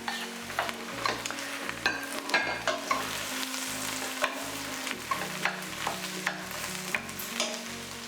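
Mushrooms fry in a pan with softened onions, giving a steady, dense sizzle along with frequent scraping stir strokes, and a low background hum underneath.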